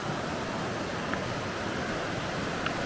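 Creek water flowing outdoors beside a campsite, a steady, even rush of water close by that holds level throughout with no voices.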